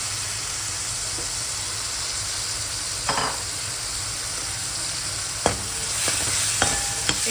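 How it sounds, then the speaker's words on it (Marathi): Chopped ridge gourd sizzles in oil on a low flame as it is stirred and sautéed in a pan, a steady loud hiss broken by a few scraping spoon strokes. "व्यवस्थित परतून घेऊया। आता आपण शिरोळा टाकूया याच्यामध्ये।"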